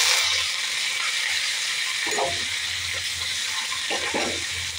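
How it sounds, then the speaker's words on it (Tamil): Curry leaves dropped into hot oil in a pan for chutney tempering, with the burner just switched off, give two short bursts of crackling spluttering over a steady background hiss, with no talk. "அடுப்பை ஆஃப் பண்ணிவிட்டு கறிவேப்பிலை போடுறேன்."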